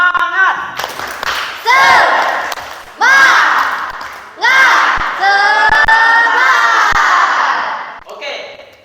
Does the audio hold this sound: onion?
no